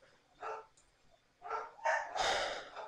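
Dogs bark in a video game, Game Dev Tycoon, in a few short separate bursts, the last ones louder and fuller, with quiet gaps between them and no talking.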